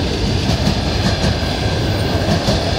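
A train rolls past a railway crossing, steady rumble and wheel clatter filling the whole stretch at close range, with rhythmic clickety-clack pulses over the track joints and no talking.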